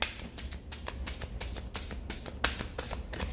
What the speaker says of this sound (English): shuffling and clearing the deck.